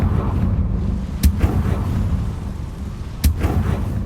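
Confringo blasting-spell explosions in the video game Hogwarts Legacy, two sharp, loud booms about two seconds apart, each followed by a brief rumble, set against a steady low ambient drone.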